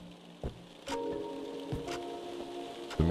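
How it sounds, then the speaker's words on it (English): Rain seeping through the walls in the game Don't Fret makes a soft, quiet patter beneath sustained music, with a few louder drip-like taps scattered throughout. "it's just rain coming through walls"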